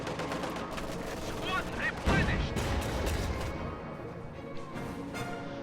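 Machine gun fire in Company of Heroes 2, rattling bursts and scattered shots amid battle noise with explosions, a commentator talking over the top throughout.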